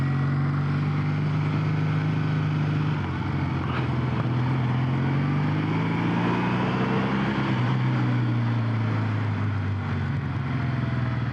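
A Kawasaki W800 motorcycle's engine droning steadily while riding under a bridge, a continuous low rumble whose pitch slowly sweeps up and down, with wind noise mixed in throughout.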